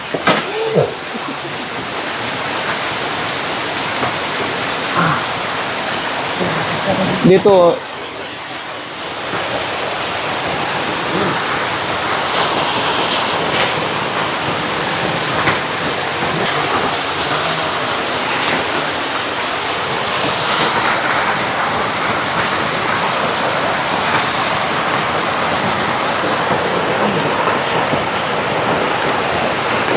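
Steady rushing water flows on a windy mountainside, a broad continuous roar running throughout, with a brief dip and a few short spoken words near the start.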